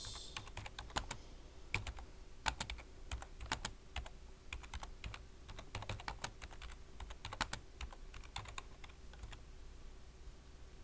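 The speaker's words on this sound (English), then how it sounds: "type in please" Quiet, steady key clicks from typing on a computer keyboard, an irregular stream of light taps with brief pauses and no voices.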